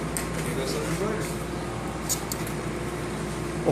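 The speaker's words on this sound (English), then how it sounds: "Here goes some embroidery." An embroidery machine stitching luggage tabs gives a steady, even mechanical drone with a faint rhythmic texture, running continuously at moderate level.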